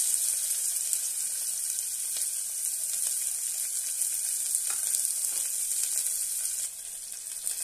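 Onions and cumin fry in hot oil for a pumpkin curry, giving a steady close sizzle with faint crackles throughout.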